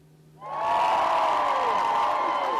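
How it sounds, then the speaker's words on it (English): A Yorkshire rally crowd erupts in cheers and whoops for Jeremy Corbyn, rising sharply from a quiet start into a loud, sustained roar with shouting voices layered on top. "They gathered in Yorkshire to cheer him."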